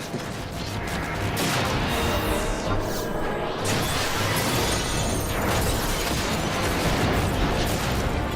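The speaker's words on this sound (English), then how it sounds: "Explosion in my face." A loud, sustained explosion in the Final Fantasy XI online game, a dense roaring, crashing blast with brief crackling bursts that fills the whole stretch without letting up.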